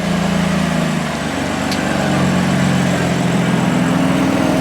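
A BMW M4 pulls slowly out of a garage, its engine giving a steady, close, low idling rumble with no break and no voices.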